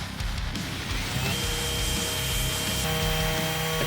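Steady abrasive rubbing of sanding on a glued wooden cabinet, continuous and close, with no pauses or voices.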